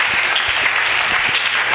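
A church congregation applauds to acclaim the Word of the Lord, a dense, steady burst of many hands clapping together, loud and even throughout.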